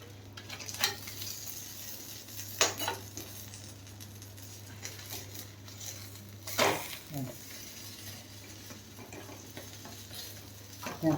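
Aloo paratha crisping in ghee on a pan gives a low steady sizzle, broken by a few sharp scraping and clattering bursts as it is moved and pressed, with some faint talk in the background.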